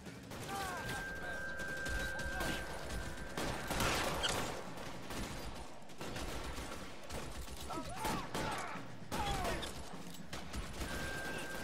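Rapid bursts of gunfire in a shootout from the video game L.A. Noire, cracking in clustered volleys with brief gaps, loud and sharp over faint background voices.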